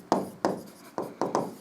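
Chalk or marker strokes on a board, five or six short scratchy taps and scrapes in an uneven rhythm, close and clear with no talking.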